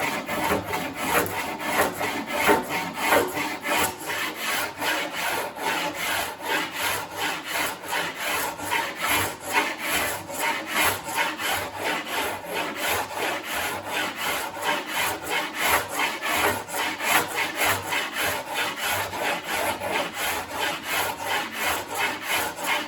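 A coarse rasp shapes the rails of a handmade wooden surfboard in steady, rapid back-and-forth strokes, a continuous rhythmic scraping close up that runs without pause and with no talking.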